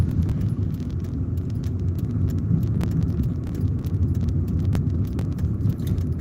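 Interior drone of a car being driven, a steady low rumble of engine and road noise with faint ticks and light rattles scattered through it.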